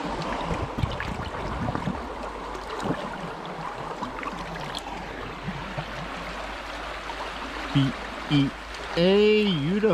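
The river Allondon flows as a steady, broadband rush of water under outdoor ambience, with a voice speaking over it toward the end.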